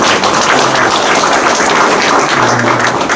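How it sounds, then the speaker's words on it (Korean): A lecture audience applauds, with dense, steady clapping filling the room at full volume from start to finish. "다시 한번 큰 박수로 감사합니다."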